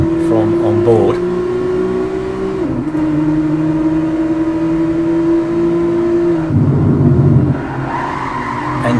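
Onboard engine of a Nissan 350Z race car in a racing video game, a steady high droning note held at speed, a brief dip in pitch, then a rougher gear change and rising rev toward the end, loud and continuous.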